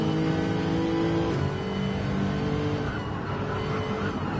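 Onboard a Lexus GT race car during the Bathurst 12 Hour at Mount Panorama, the engine drones loud and steady with a pitch shift partway through, continuous and close throughout.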